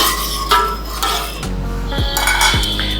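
Urad dal rice is stirred in a metal pot, with a loud, close scraping of a spoon against the pot and a few knocking clinks. A low steady hum runs underneath.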